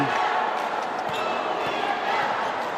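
A Batangas basketball crowd shouts during free throws late in a fourth-quarter game against Pampanga. The roar is dense and continuous, filling the whole moment with loud, unbroken noise.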